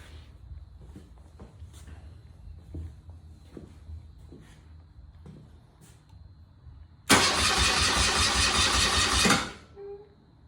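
Close and loud, a BMW R65 Airhead motorcycle needing a bit of choke cranks and bursts into a rough, roaring run for a couple of seconds, then cuts out, after quieter faint clicks and knocks.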